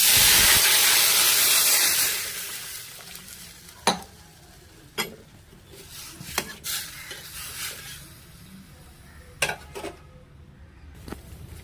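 Water poured into a pan of fried vermicelli with coconut, a loud burst of hissing steam that dies down after two seconds into quiet bubbling, broken by several sharp knocks of a spoon against the pan.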